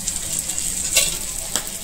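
An omelette frying in oil in a pan gives a steady close sizzle with a bright crackle and a couple of sharper pops. No talking.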